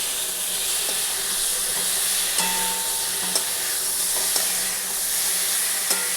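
Cauliflower and potatoes fry in a pan with a continuous close hiss of sizzling oil, punctuated by several light ticks and scrapes of a spatula.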